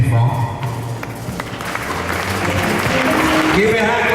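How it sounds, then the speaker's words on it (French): A church congregation applauds under a loud speaking voice and a sustained musical tone, the clapping forming a steady rustling layer beneath the talk. "Give a hand clap to Jesus."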